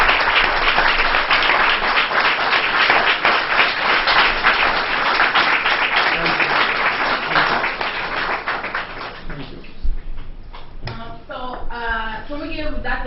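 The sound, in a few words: audience applause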